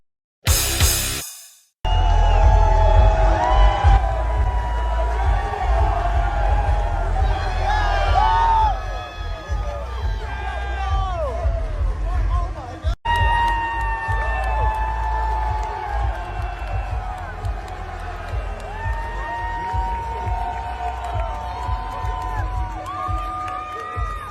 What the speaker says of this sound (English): Look at the crowds going wild.